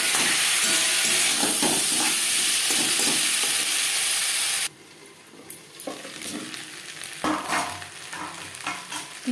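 Potatoes mixed with ginger paste and green chili paste are stirred in a pan, loud and close: a dense sizzle and stirring hiss at first, then quieter scattered scrapes and clinks after it drops away abruptly.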